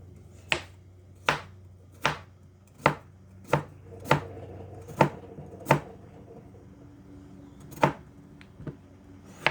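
A kitchen knife chops through potatoes on a cutting board at home, about ten crisp, evenly spaced knocks with a short pause near the end, close and clear with a low background hum.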